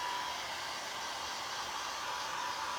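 A hair dryer blows a steady, even roar of air over a craft project, unbroken for a few seconds with no talking.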